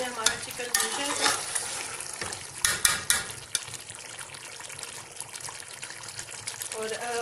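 Chicken stir-frying in a pan for Sindhi biryani, with steady sizzling and frying hiss, scraping and stirring clatters with a few sharp spoon knocks, and faint trickling water; close and moderately loud, with no clear speech.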